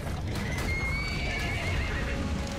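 A horse in the video game ARK gives a loud, drawn-out whinny that rises and wavers over a steady, dense game background, heard up close, with no talking.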